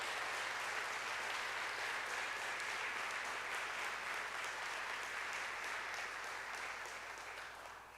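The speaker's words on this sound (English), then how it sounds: "Let's give a round of applause to the team here that's building the latest, best affordable housing project in the city." A council-meeting audience at a Providence mayoral budget address applauds the team building the city's newest affordable housing project, a dense, steady wash of many hands that holds for several seconds and then tapers toward the end.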